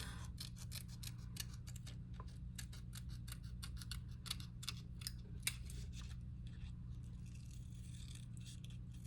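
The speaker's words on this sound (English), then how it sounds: "I'm going to trim the white where I didn't cut quite close enough" Scissors trimming a paper cutout for a collage, with a quick run of close, crisp snips in an irregular rhythm over a low steady hum, then quieter rustling at the end.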